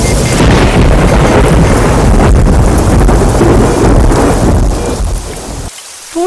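Heavy rain pours down steadily in a loud, dense roar, with low rumbling thunder rolling underneath before the downpour eases near the end.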